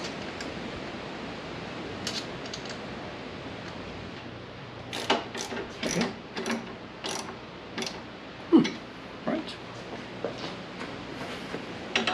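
Ratchet tightening bolts on a Lone Rider pannier rack fitted to a Honda Africa Twin motorcycle, heard as a run of sharp, close clicking bursts in an irregular rhythm after a quieter stretch of faint background noise.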